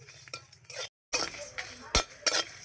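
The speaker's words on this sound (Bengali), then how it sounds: "এইভাবে আমি ভেজে নেব মশলাগুলো।" Spices for mango pickle are stirred in a wok over low heat, with a spatula clinking and scraping against the metal in short, irregular bursts and near-silent gaps between.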